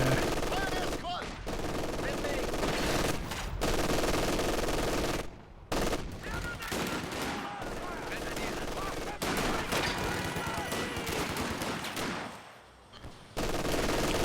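MG42 machine guns firing in a Company of Heroes 2 match, long loud stretches of rapid automatic bursts and scattered shots, cut by several brief quiet gaps.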